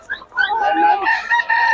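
A rooster crows at a Bocaue market, one drawn-out, wavering crow close by with faint background murmur.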